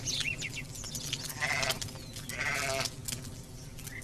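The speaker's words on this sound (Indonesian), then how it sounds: "Iya, seekor domba kecil terbaik." A small sheep bleats in several quivering, wavering cries over a busy background of music and ambient sound, moderately close.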